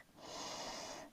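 A slow, steady inhalation through the nose during a gentle beginner yoga stretch, close and soft, a single long airy breath lasting about a second.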